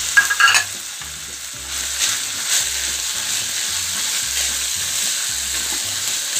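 Carrot, capsicum and cabbage stir-fried in a pan, a continuous close sizzle with a sharp clatter of utensil on pan at the start, followed by steady hissing and mixing.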